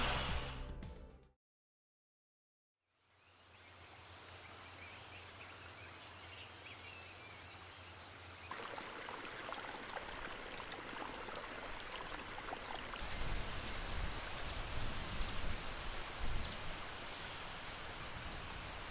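A stream flows steadily through a mountain valley near the rice terraces of Pang Ma O in Chiang Mai, a soft continuous wash of water with insects chirping, after a short silent gap near the start.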